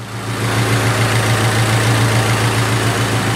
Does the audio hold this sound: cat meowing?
no